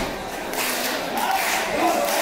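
A wrestling crowd at a GWF Summer Smash event keeps up a steady, roaring cheer that fills the arena without breaks.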